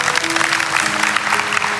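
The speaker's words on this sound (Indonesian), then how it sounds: "Kasih tepuk tangan untuk Tuhan." A church congregation claps during a sermon, producing a short burst of steady, fairly loud applause.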